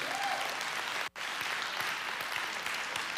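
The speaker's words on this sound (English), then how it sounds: "let's give the Lord a round of applause" A church congregation claps together in loud, dense applause that continues steadily with a brief gap.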